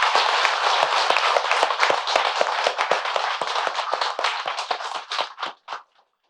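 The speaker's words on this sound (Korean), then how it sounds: "모두 박수 한번 쳐주십시오" An audience claps at a Buddhist dharma ceremony at a temple in a dense, lively burst that thins out and trails off into a few final claps before silence.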